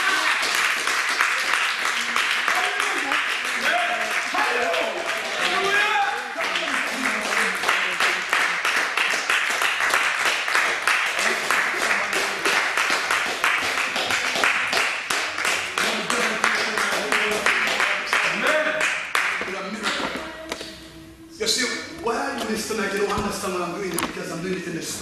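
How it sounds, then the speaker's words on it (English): A church congregation claps along during a sermon, sustained rhythmic clapping carrying on for the whole stretch, dense and loud, mixed with voices, music and a preacher speaking over it, with a brief dip near the end. "clap your hands for Jesus"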